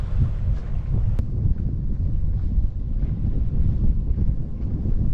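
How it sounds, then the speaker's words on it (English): Strong headwind buffets a sailboat moving through a fjord channel between islands, a loud continuous low rumble of wind across the microphone with faint water wash beneath it and no talking. "Doesn't seem to matter which direction I go in today, the wind's dead on the nose"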